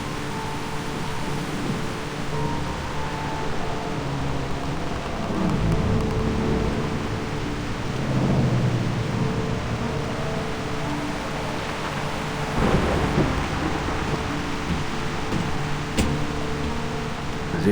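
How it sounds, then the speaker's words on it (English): A thunderstorm with rain in the Reverse: 1999 game gives a steady wash of rain noise, broken by several deep rolling thunder rumbles, with no talking. "This storm is quite a delightful surprise."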